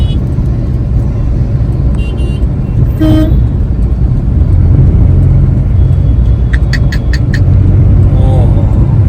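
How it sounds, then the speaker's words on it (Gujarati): Strong dust-storm wind roars steadily around a car sheltering under a bridge, a loud continuous rush with a horn toot and short beeps from nearby traffic, and a voice briefly heard. "એટલો જોરદાર પવન છે"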